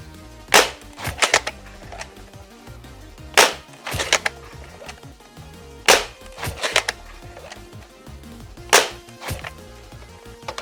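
Dart Zone PRO MK-4 foam dart blaster fires four loud, sharp snapping shots roughly every two to three seconds, each shot followed by a short mechanical rattle, with no talking.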